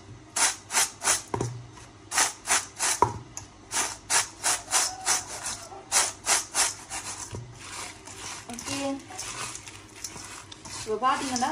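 Fried vermicelli snack mixture is tossed in a bowl with salt and spice powder, giving rhythmic, dry scraping and rustling strokes close by that repeat steadily, then become looser and softer toward the end.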